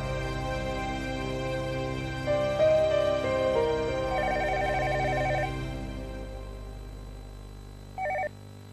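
An electronic telephone ring sounds in a domestic drama scene, a repeating warbling tone over background music, pausing and then chirping briefly once more near the end.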